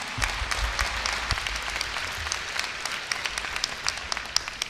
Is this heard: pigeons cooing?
no